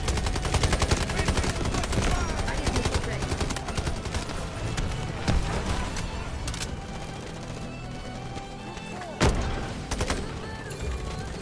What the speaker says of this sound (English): Overload activated! Triple blaster charges up!